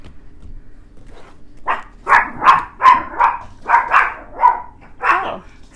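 Several excited dogs bark close by in a quick string of about eight sharp barks, with a few softer yips at the start, while neighbors cut down a tree.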